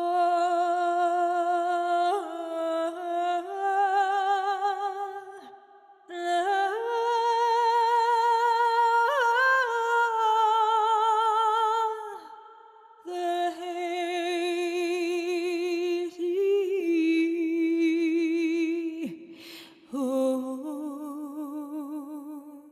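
An a cappella vocal melody sung solo with no accompaniment, sustained phrases separated by brief pauses, clear and close throughout.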